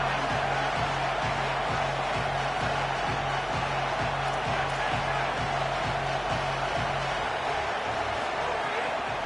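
A stadium crowd in a college football video game keeps up a steady, dense roar throughout, with a faint regular low thumping running beneath it.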